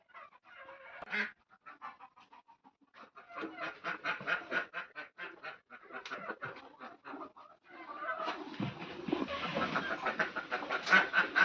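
Free-range country chickens cluck and chatter in uneven bursts in a chicken shed, some calls sharper than others, growing busier toward the end; a scratchy flock sound close by.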